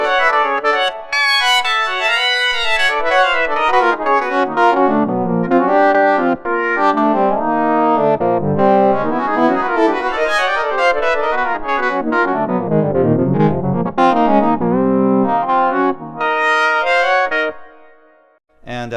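An FM synth patch in the Dune 2 software synthesizer plays a sustained, gliding melodic line with rich bright harmonics, loud and continuous, alone without voices.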